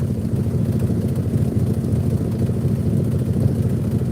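A low, steady engine idle with an even rhythmic chug, close and moderately loud, running without pause; a 1972 Highboy truck idling slightly high.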